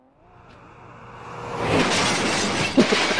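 Car hitting its front bumper in the BeamNG Drive driving game: a rising whoosh swells into a crunching impact with glassy shattering and a sharp clatter near the end, loud and up close.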